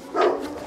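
A Caucasian Shepherd dog in Jamaica gives a single short, fairly loud bark, with no other sounds around it.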